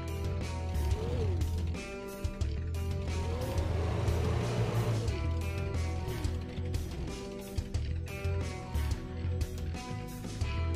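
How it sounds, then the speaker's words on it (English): Vehicle engines drone constantly in the Brick Rigs multiplayer video game city, with revving pitch sweeps, mechanical clatter and sharp impact clicks throughout. "there's constant engine noise"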